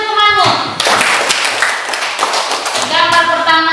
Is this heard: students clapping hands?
yes